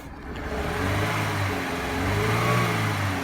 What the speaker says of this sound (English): we're only running on 3 cylinders. The car has got a misfire.